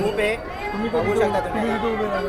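Dense crowd chatter at the Durgadi fort Navratri fair in Kalyan, many overlapping voices close by forming a steady, busy murmur throughout.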